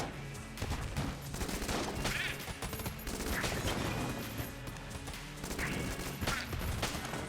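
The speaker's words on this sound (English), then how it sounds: "that rocket-powered bullet helps a lot now. I can actually shoot my target." Rapid gunfire from rocket-powered bullets in the video game Enter the Gungeon, dense continuous bursts of shots and impacts layered with game effects, loud and close throughout.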